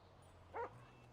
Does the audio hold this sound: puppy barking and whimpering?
yes